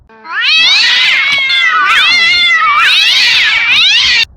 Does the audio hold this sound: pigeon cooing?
no